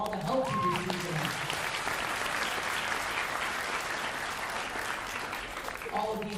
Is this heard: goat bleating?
no